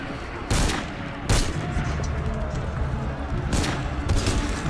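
Gunshots in the video game Assassin's Creed Unity, fired at the player from a window: four sharp, loud reports at irregular intervals over a low ambient game background.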